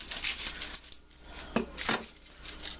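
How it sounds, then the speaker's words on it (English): A knife slicing a large yellow onion in half on a cutting board, a few crisp cutting and tapping sounds spread over a quiet kitchen background. "I'm gonna use one large yellow onion I'm gonna cut the onion in half"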